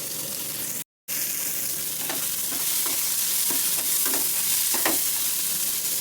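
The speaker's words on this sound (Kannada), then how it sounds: "ಹಾಗೆ ಇದಕ್ಕೆ ಬೆಳ್ಳುಳ್ಳಿ, ಕರಿಬೇವು ತೊಗೊಂಡಿದ್ದೆಲ್ಲ ಕರಿಬೇವು ಆ್ಯಡ್ ಮಾಡ್ಕೊತೀನಿ." Garlic and curry leaves fry in a hot pan with a steady sizzle, and a spoon scrapes the pan now and then; the sound drops out briefly near the start.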